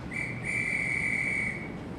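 A single steady, high-pitched whistle holds one clear tone for over a second against a quiet background, with no talking.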